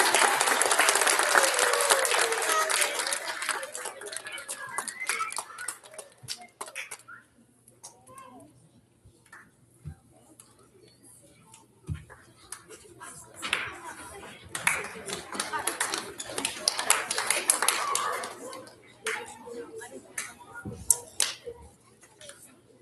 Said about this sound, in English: Can we have a round of applause for our 5th grade award recipients?